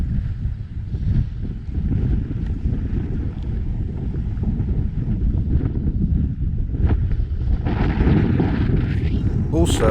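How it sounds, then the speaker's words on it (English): Strong, steady wind in Inishowen, Ireland, roars and buffets the microphone throughout, a dense low rumble with gusts; a voice is faintly audible beneath it. "it gets incredibly windy here"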